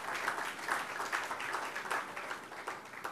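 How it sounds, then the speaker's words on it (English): Dense, steady applause from an audience honoring esteemed guests at a ceremony unveiling a commemorative postage stamp for the BSE's 140th anniversary, sustained and fairly loud throughout with no pauses. "Let's have a huge round of applause for our esteemed guests."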